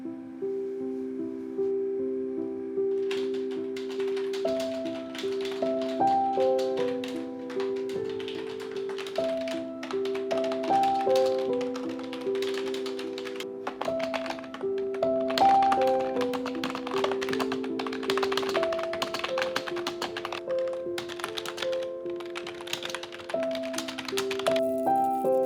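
Steady tapping of computer keyboard keys while writing, a soft, continuous clatter of keystrokes running under gentle background music throughout.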